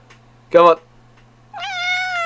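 A cat gives two distinct meows, a short one first and then a longer drawn-out one a second later, close and clear against a quiet room with a faint steady hum.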